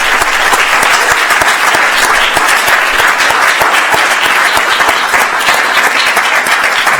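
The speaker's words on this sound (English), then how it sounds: "can we have a round of applause for all of our contestants, our judges" Loud, sustained applause from an audience for contestants and judges at the 2023 SAFR Challenge innovation competition, continuous dense clapping from start to finish.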